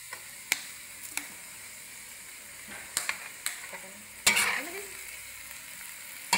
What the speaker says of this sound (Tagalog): lalagyan natin ng Maggi soy sauce